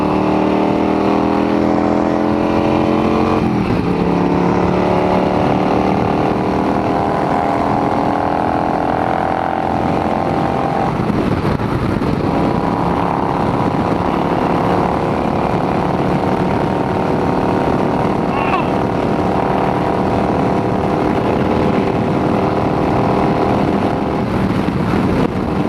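Yamaha V-Star cruiser motorcycle engine running steadily, a continuous loud drone that rises and shifts pitch as the bike moves through gears, with no talking.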